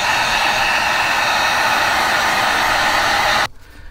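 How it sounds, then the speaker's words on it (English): A heat gun blows a loud, steady, close hiss over sanded EVA foam, running unbroken and then cutting off abruptly near the end, leaving faint room noise. "Now we're just gonna use a heat gun, reduce some of the roughness"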